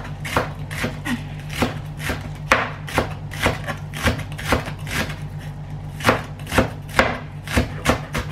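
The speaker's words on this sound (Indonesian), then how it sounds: "Terus kita iris juga daunnya, iris kecil-kecil juga." A knife slices leaves finely on a cutting board while meat is being seasoned. About fifteen crisp, close chops come at a steady, slightly uneven rhythm, with no talking.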